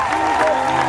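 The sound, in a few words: audience applauding and cheering to acclaim Jesus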